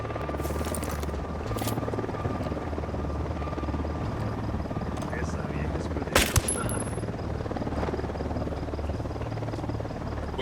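A helicopter in the video game Ghost Recon Wildlands drones steadily with a low rotor thrum throughout, joined by a brief sharp burst of gunfire-like cracks midway, moderately loud against a game soundscape.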